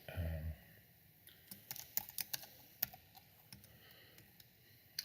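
Quiet clicking of computer keys as a spreadsheet formula is typed, irregular taps and clacks spread across several seconds, faint and close with no talk.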